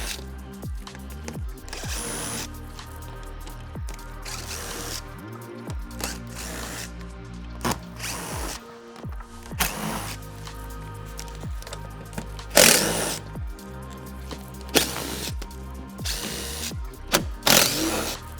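A power tool whirs in repeated short bursts while 8mm screws are backed out of a plastic panel on a 2023 Ford Ranger Wildtrak, with clicks and handling noises between runs, close and fairly loud.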